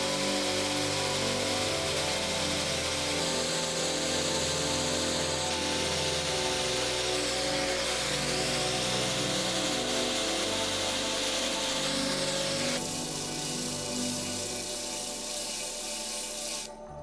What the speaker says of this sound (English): After cutting out and cleaning up the two pieces of curly maple